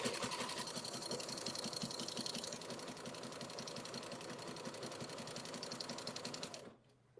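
A sewing machine back-stitches a quilt block in one steady, fast mechanical run of needle strokes, close but fairly quiet, stopping abruptly near the end.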